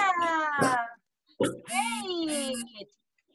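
A young child imitates a cat with two drawn-out, whiny meows, loud and close, separated by a brief pause.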